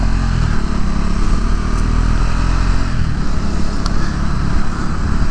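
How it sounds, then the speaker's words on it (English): A motorcycle being ridden drones loudly and steadily, its engine note and wind rush filling the whole stretch with no pauses and no voices. "it can't get better than riding this bike right now"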